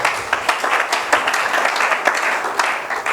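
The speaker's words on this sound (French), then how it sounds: "Acclamons pour la gloire de notre Dieu." A church congregation applauds in a steady, dense burst of clapping with sharper accents scattered through it, loud and close.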